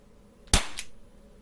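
A single sharp, loud report from an Umarex T4E HDR .50 caliber pistol, a short crack followed by a brief echo, fired close by with no talking.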